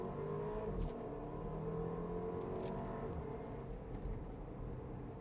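A 2018 Porsche Macan base model pulls away from a stop under throttle, its engine giving a continuous, fairly loud drone that builds steadily over the few seconds, with no voices.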